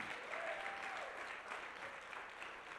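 An audience applauds in a large hall, a dense, even wash of clapping that holds steady from start to finish at a moderate distance, with no voice over it.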